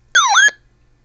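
A RadioShack 12-993 weather radio sounds its alert tone during setup: one short, loud electronic chirp with a sweeping, warbling pitch, alone against silence.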